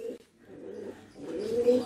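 A caged songbird calls with soft, low cooing notes in a short phrase that rises toward the end.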